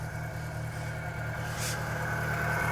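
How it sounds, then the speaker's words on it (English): A Bedford CF van engine idles after being coaxed into starting, a steady low throbbing pulse with an even rhythm, fairly quiet and close, with a brief hiss partway through. "One running Bedford CF."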